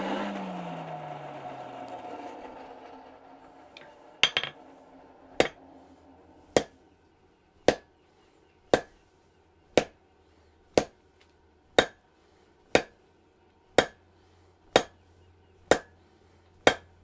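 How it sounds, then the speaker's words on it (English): Hammer blows on hot half-inch round mild steel at yellow heat on an anvil, flattening lumps: about a dozen sharp ringing strikes at a steady, even rhythm, close and loud, following a brief scrape, with no talking. "I'll go back here with the flat hammer, take out lumps and bumps."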